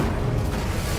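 An Incendio fire spell in Hogwarts Legacy on PS5 gives a short, loud, rumbling burst of flame, close and unbroken, with no talking.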